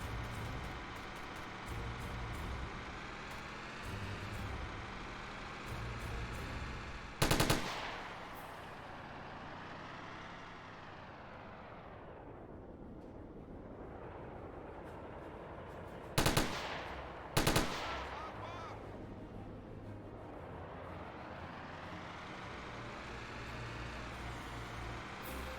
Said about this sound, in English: Who is firing at us?